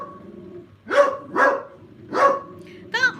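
Dogs bark from inside a house in Scotland: four loud, close barks in an uneven rhythm, the last one more whiny and yelping, over a quiet room hum.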